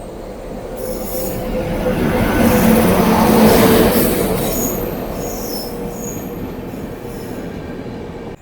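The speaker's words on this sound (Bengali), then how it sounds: "আমাদের ট্রেন ঢুকছে পূর্বাঞ্চল এক্সপ্রেস প্ল্যাটফর্ম নাম্বার 3-এ" Purbanchal Express pulling into platform 3 at Panagarh railway station, a loud steady rumble of wheels with faint squeals, swelling midway then easing as it slows.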